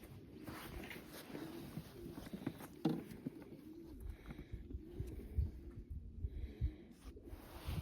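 Soft cooing from Janssen De Klak racing pigeons sits low and steady under a murky background hum, with faint rustling and occasional small knocks from the birds nearby.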